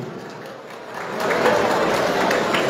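Wedding guests applauding at a Romanian wedding celebration, a broad crowd clapping that swells louder partway through and stays dense to the end.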